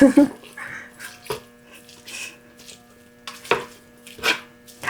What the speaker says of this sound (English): get my meat masher out and do the hard part